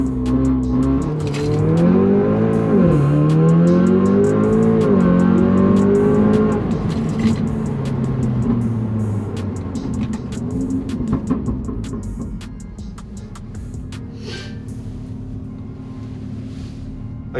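An Audi S3 with a Milltek exhaust launches hard from a standstill, its engine note climbing loud and close through rising revs, then settling into a steadier drone as the car keeps accelerating.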